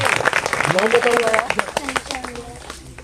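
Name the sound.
audience applause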